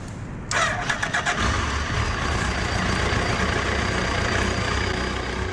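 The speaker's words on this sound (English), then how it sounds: "So when I authenticate, the bike powers up." An RFID-authenticated motorbike powers up and its engine cranks and catches after a short pause, settling into a loud, steady idle rumble up close.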